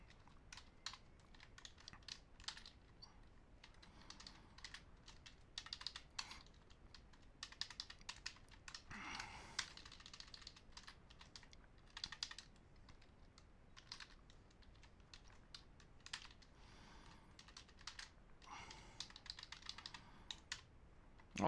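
Steady typing on a computer keyboard while writing Pascal code, quiet and close, with irregular clusters of key clicks and short pauses throughout, no talking.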